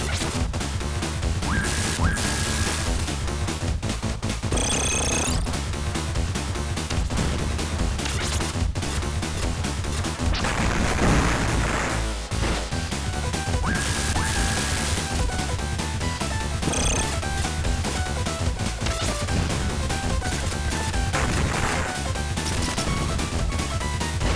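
Loud, dense game-audio barrage from a Contra Hard Corps boss fight, with bomb explosions crashing and thudding repeatedly over constant music and rapid effects, plus a few sharp bright bursts.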